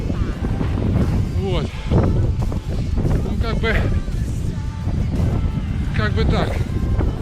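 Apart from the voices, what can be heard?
wind blowing on microphone outdoors in frost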